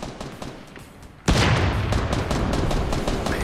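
A heavy sniper fires in Fortnite Battle Royale: a quiet stretch of distant clicks gives way to a sudden loud blast, then sustained booming gunfire and rumbling echoes continue to the end.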